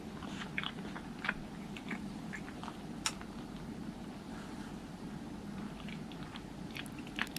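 Close, quiet chewing of a large ohagi rice cake, with soft sticky mouth sounds and occasional sharper bites over a low steady background hum.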